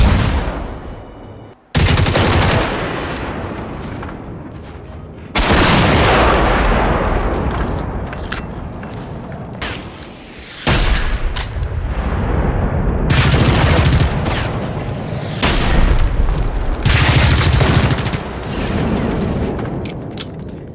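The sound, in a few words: gunfire and explosions in video game Generation Zero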